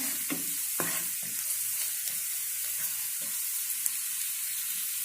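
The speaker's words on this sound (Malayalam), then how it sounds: "നന്നായി ഇളക്കി കൊടുക്കാം." A masala mixture with a quarter teaspoon of garam masala is stirred in a frying pan, with a soft steady sizzle under several scraping spoon strokes, close and fairly quiet.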